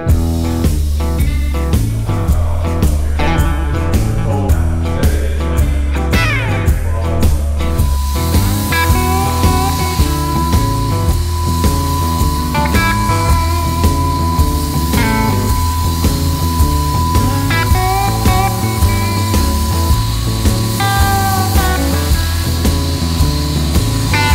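A pressure water sprayer blasting road salt off a 1987 Peterbilt big rig truck, a loud continuous hiss and rush of spray throughout with no talking.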